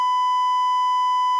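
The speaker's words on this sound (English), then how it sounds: "I'm going to have to beep out that phone number." A steady, loud electronic censor beep, a pure continuous tone held for over a second, covering a spoken phone number.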